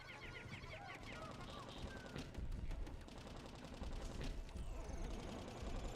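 Rapid gunfire from the Gatling Groink gun in a video game, a dense continuous chatter of shots layered with game effects and music that runs steadily through the whole stretch.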